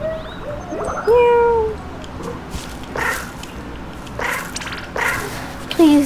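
Cat meows from a video game in which the player is a cat, heard as several short, high mewing calls scattered across the clip over steady game background noise, with a person speaking at times.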